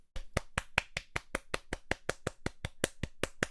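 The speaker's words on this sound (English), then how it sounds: "One round of applause." Steady applause from a small group, rapid claps in a regular rhythm, close and fairly loud with no talking.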